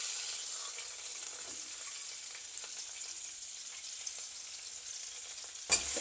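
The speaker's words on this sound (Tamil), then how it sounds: "இப்போ இந்த வெண்டிக்காவை நான் இந்த எண்ணெயில் போட்டு கொஞ்சம் ஃப்ரை பண்ணி எடுக்கிறேன்" Okra frying in oil in a pan gives a soft, even sizzle that holds steady, with a sharp clunk near the end and no voices.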